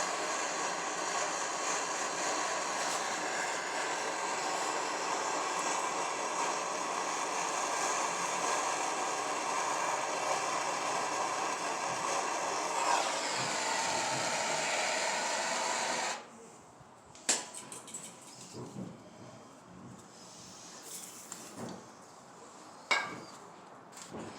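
A loud, steady torch roar heats a Ford F250 rear axle part, then cuts off, leaving a few sharp metal hammer blows struck at irregular intervals, close by.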